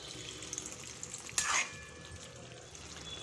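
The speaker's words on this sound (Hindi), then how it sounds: "थोड़ा सा मैं इसमें पानी डाल देती हूँ।" A short splash and sizzle as a little water hits lauki and potato curry frying over high flame, one brief burst amid quieter low cooking noise.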